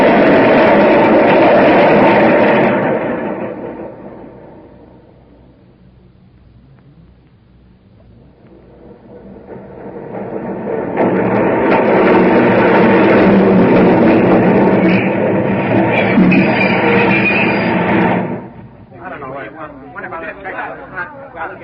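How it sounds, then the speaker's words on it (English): A subway train rumbles loudly as a sound effect in a radio drama set on a New York line toward Times Square. The roar swells, fades to a low drone, then builds again before cutting to a lighter clatter. "the train went on to Times Square"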